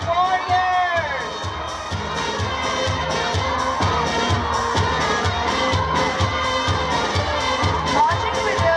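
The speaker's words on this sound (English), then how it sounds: "please give a huge round of applause to our stout-hearted Warriors!" A large outdoor crowd cheers and shouts, with children's voices among them, at a college opening ceremony in Islamabad as a team of marching warriors is announced. The noise is loud and sustained throughout, and a rhythmic pulse runs under it.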